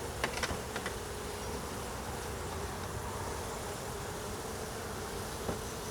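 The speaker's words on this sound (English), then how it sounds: "The bees objecting." A steady, dense buzzing of many disturbed honey bees during oxalic acid treatment of a hive, fairly faint and continuous, with a few brief clicks early on.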